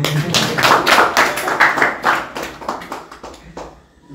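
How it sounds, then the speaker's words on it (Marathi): A group claps together at a devotional youth study gathering, a loud burst of hand claps that gradually thins and fades over a few seconds. "अश्विनसाठी टाळ्या वाजवा."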